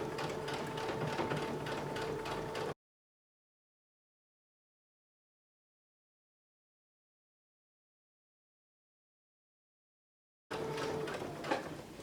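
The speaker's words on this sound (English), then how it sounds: "I'm sewing down as far as I can go. Back stitch." A sewing machine stitches down an invisible zipper and finishes with a back stitch. Short bursts of rapid, even mechanical stitching come at the start and end, with a long stretch of silence between them.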